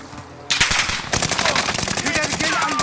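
Rapid automatic gunfire in Call of Duty: Modern Warfare, a dense burst of sharp repeated shots starting abruptly after a short quiet lead-in and continuing loud to the end, with players' voices faintly under it.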